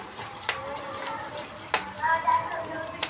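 Onion frying in a pan in a home kitchen, with a steady soft sizzle broken by a few sharp clinks of a stirring spoon.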